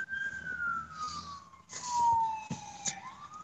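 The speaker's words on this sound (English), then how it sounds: "What's with all the fucking sirens?" A wailing siren glides downward as an emergency vehicle passes, with a second fainter siren tone and traffic rumble underneath.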